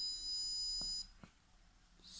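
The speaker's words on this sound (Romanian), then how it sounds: "Încercăm să oprim alarma." An Arduino Nano doppler proximity detector with an RCWL-0516 sensor sounds a steady high electronic alarm beep for about a second, then cuts off, leaving soft clicks and room noise before another brief tone begins.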